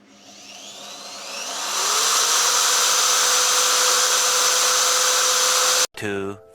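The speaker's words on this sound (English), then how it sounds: "Before bending, we have to do drilling." A power drill bores into a fog light bracket for a Yamaha R15 V4, its motor winding up to a loud, steady whine that holds for several seconds before cutting off, followed by a brief spin-down.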